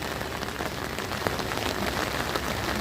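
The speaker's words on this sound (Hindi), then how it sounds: "बारिश हो रही है भाई साहब लगातार।" Steady, continuous rain patters on surfaces in Shimla, a dense even hiss with scattered drops, close and moderately loud with no voices.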